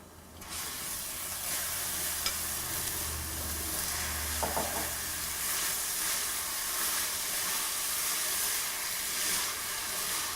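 Grated coconut mixture for aval vilayichathu sautéed in a hot pan, a steady loud sizzling hiss with faint scraping of a spoon throughout, close and continuous, no speech.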